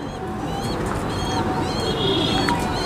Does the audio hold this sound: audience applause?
no